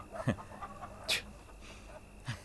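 Chickens cluck in short, scattered bursts on a farm, a few brief calls spread across the moment at moderate distance over a quiet background.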